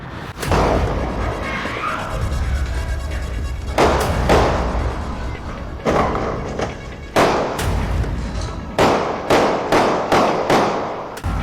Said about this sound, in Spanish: Se escuchan disparos y la gente está corriendo.